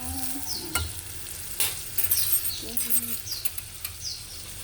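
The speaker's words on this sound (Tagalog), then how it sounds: "prito tayo na" Chicken frying in hot oil crackles and sizzles close by, with clinking stirring sounds and a few short squeaks over the steady hiss.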